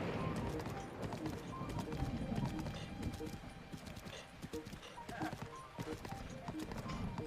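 A horse's hooves clip-clop steadily at close range in Breath of the Wild, a rhythmic run of hoof strikes that continues throughout, with a faint whinny and someone talking over it.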